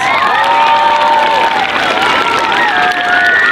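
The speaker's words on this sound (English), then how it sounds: "Give Mr. Hawthorne a big round of applause" An audience at a Golden Oak school event applauds and cheers for the music teacher, Mr. Hawthorne, loud sustained clapping with excited shouts and whistles from adults and children.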